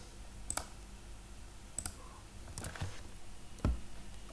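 Computer mouse clicks while drafting a flower shape in LibreCAD: four sharp, isolated clicks spaced about a second apart over a quiet room hum, close to the microphone.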